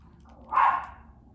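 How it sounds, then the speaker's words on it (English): A single deep woof from a large dog, one short loud bark indoors with quiet room hum before and after. "Sounds like I have a very large dog."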